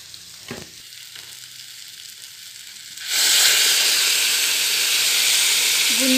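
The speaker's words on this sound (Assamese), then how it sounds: "পানী উতলি আছে" Water added to a hot pan on a gas stove surges into a loud, steady sizzling rush after a quieter stretch with a few faint clinks, holding continuously to the end.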